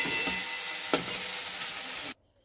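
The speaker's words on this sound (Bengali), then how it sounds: "শাকটা দিয়ে ভালো করে ভাজা করি।" Fenugreek greens frying with eggplant in a pan, a loud close sizzle with a couple of stirring knocks, cutting off abruptly into near silence at the end.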